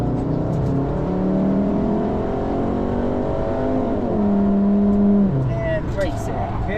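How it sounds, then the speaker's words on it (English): A car under full throttle on a Nürburgring Nordschleife track day lap drones loudly with rising engine harmonics, the pitch climbing steadily and dipping with a gear change, while a voice speaks over the constant engine roar. "back on throttle, and let it open"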